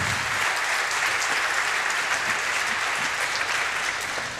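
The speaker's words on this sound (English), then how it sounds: "please give another big round of applause for this awesome research." A conference audience at a hacker camp security talk gives a sustained round of applause, a dense, steady clatter of many hands filling the room from start to finish.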